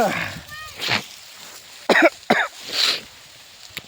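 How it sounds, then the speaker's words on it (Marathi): Someone coughing and clearing their throat in short harsh bursts, a few spaced coughs close to the mic with brief vocal sounds between them. "काय ठसको बी लागू रे बापू"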